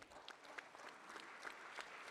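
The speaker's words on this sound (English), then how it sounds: "Can we give a round of applause to all of us who are suffering with mental health issues?" A brief patter of clapping from a crowd, fairly faint and steady throughout, with no voices over it.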